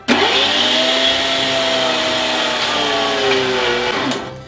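A kitchen machine minces meat with a steady, loud motor whine that holds for several seconds, close by and without speech, before spinning down at the end.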